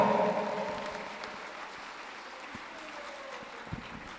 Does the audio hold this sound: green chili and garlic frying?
no